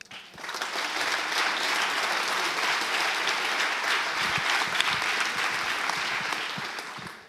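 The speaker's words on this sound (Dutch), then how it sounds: "Dames en heren, warm applaus," A studio audience gives warm, sustained applause as a guest is welcomed on stage, dense steady clapping rising quickly and holding loud for several seconds before tapering at the end.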